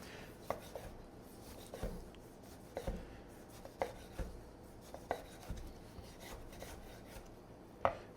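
A knife cuts a tomato on a cutting board for pico de gallo, with soft, quiet, irregular taps and slicing strokes spread across several seconds and a sharper knock near the end.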